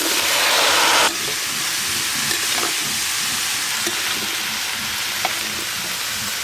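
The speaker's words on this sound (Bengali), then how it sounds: "ইলিশ মাছের মাথা দিয়ে বাঁধাকপি রান্নার জন্য আলু আর বাঁধাকপি একসঙ্গে ভেজে নেব।" Sliced potato and cabbage frying together in the oil left from frying a hilsa fish head, a loud, dense sizzle with occasional stirring scrapes that eases slightly after the first second.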